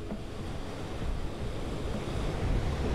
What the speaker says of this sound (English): right now I'm sitting in front of the Andaman Sea